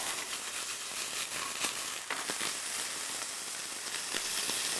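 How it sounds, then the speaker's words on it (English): A mirepoix of carrots and celery sweating in a pan, giving a steady soft sizzle and hiss that continues unbroken at a close, even level. "we're going to let this cook down just a little bit and soften those carrots up"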